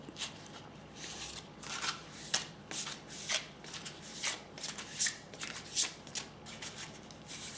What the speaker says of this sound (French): on va tirer une carte du murmure de guérison